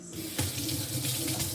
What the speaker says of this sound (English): Let's get that water going